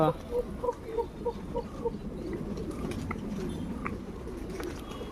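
Pigeons being fed at Allalasandra Lake Park in Yelahanka, Bangalore, coo in a steady series of soft repeated notes over busy outdoor background noise, fading into general ambience.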